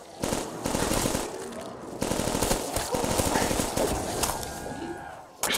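A Death Machine minigun in Call of Duty custom zombies, Last Man Standing mode, fires in long rapid sustained bursts with brief gaps, loud and close, mixed with game effects.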